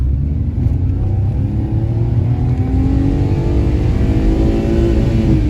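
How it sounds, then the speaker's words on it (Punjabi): A pickup truck accelerating hard in first gear, its engine rising steadily in pitch as it revs loud and close throughout, with no talking. "ਪਹਿਲੇ ਗੇਅਰ ਚ ਗੱਡੀ ਕਿੰਨੇ ਦੀ ਸਪੀਡ ਤੱਕ ਚੜਦੀ ਹੈਗੀ"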